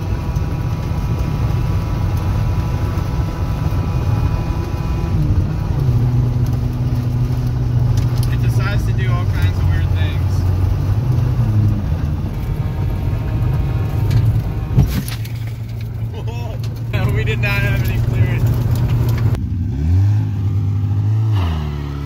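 A hoodless Honda car with no brakes on a top speed run, its engine droning loudly and steadily, rising and shifting in pitch through gear changes, with a voice talking over it.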